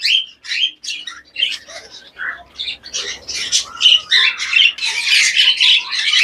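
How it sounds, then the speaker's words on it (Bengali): Japanese budgies squawk and chirp in a cage, a busy cluster of shrill, overlapping calls close by, with a voice speaking faintly beneath them. "খুব সুন্দর কোয়ালিটির বার্ডস রয়েছে জেপি।"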